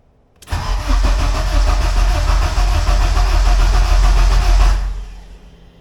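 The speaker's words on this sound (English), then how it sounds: "Turn it over. Starter engages." A Honda K24 engine swapped into a Mazda Miata cranks and fires on its first start, catching quickly and settling into a loud, steady idle that runs several seconds before cutting off, close to the microphone with no talk.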